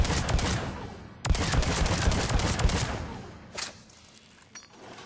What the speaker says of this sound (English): So Phalanx pistol fired from the hip at short range. This is a semi-automatic pistol.